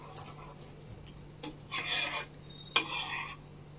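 A utensil stirs curd masala in a pan for Hyderabadi paneer, giving a few separate soft scraping strokes and one sharper clink against the metal, with quiet gaps between them.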